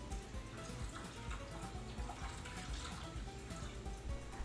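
Water poured steadily into the bottom of a roasting pan holding an oven-roasted pork, a continuous close splashing flow with no talk.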